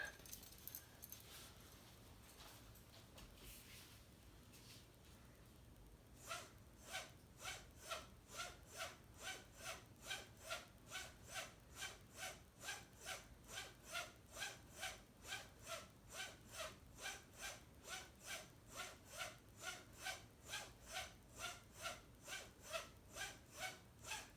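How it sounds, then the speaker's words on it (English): A straight razor is stropped on a homemade nylon web strop, starting with faint rubbing, then settling into a steady, rhythmic series of quick scraping strokes, quiet and close with no talking. "I'm just gonna strop on this strop I made."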